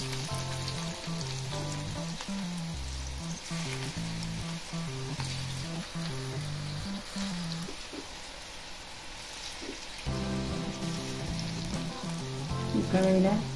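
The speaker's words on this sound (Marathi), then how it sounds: "खेकडा भाजी म्हणजे अशी सोडायची, गोल नाही करायची, छोटी अशी सोडायची।" Khekda bhaji fritters frying in hot oil in a pan over low heat, a steady broadband sizzle with crackling bursts running throughout, close and fairly loud, with some faint background hum and no talk.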